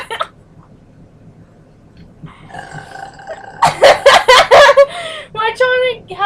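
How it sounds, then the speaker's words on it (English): Loud burps come close to the microphone during a burping contest, a quick cluster of choppy belches followed by another, with laughter and talk mixed in. "She burps."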